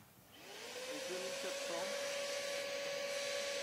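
A hair dryer and vacuum cleaner powered from a Fossibot F2400 power station whir up to a steady, loud motor drone with a constant whine, while a person talks briefly underneath at the start.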